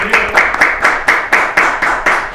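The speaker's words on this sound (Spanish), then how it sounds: "vamos a recibir con un cálido aplauso a Marcelo Bogado." A seated audience gives warm applause to welcome a speaker to a book talk, the clapping steady and dense with rhythmic peaks, fairly close and loud, with no talk over it.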